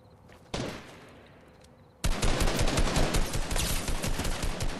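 Fortnite video game gunfire: a single sharp shot rings out, then after a short gap a dense, loud burst of rapid automatic fire continues to the end.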